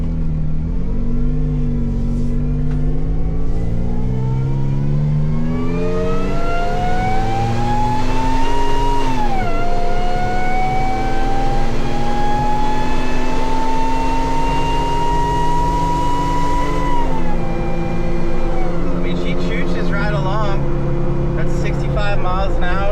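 A Jeep Wrangler JK fitted with a swapped-in 8-speed transmission pulls away from a dead stop. The loud engine climbs in pitch, drops at each upshift, then rises again, heard from inside the cabin.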